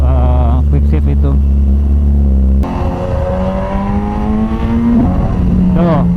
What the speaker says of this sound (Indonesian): Tuh, kayak gitu quick shift.